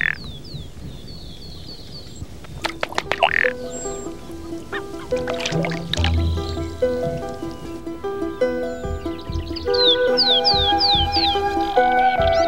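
Ducks and Chilean flamingos calling on an open Andean lake, with bursts of calls and splashy flapping, some calls close and loud, others overlapping in the background.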